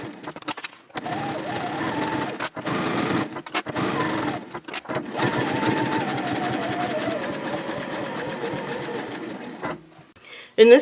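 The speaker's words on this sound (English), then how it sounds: "My machine will be able to sew over this zipper teeth" A sewing machine sews over nylon zipper teeth in a steady, rapid mechanical whir, pausing briefly a few times, then stopping near the end.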